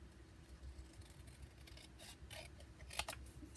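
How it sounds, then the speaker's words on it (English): Scissors cut through a sheet of paper for a junk journal, giving a faint, close series of soft crisp snips and rustles over a quiet background. "Let's see how straight I can cut."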